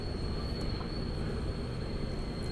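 A Hong Kong MTR Kwun Tong line train pulls into a station with a steady, loud rumble of wheels on track and a thin, constant high squeal running over it.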